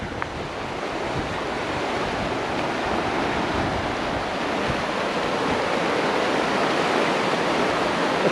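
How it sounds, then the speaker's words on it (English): A cascading alpine river rushes with a steady, close, broadband roar, mixed with gusty wind across the microphone and no voices. "one of these lovely little alpine rivers"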